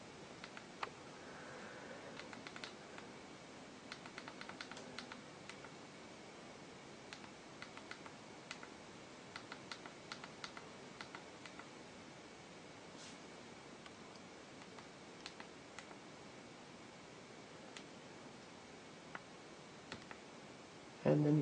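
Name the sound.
clicking e-reader keyboard buttons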